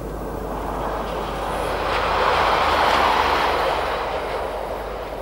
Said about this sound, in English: From the redundant sidings, we see a southbound Pacer.